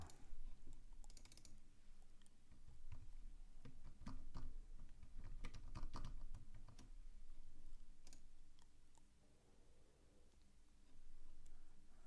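An email address is typed on a computer keyboard in bursts of quick, close key clicks with short pauses, fairly quiet over a low room hum and no talking.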